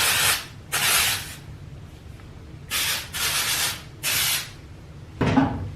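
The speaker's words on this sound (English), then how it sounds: "So you can also do some of the texturizing spray." Five short bursts of aerosol texturizing hair spray, hissing in quick succession with brief pauses between them.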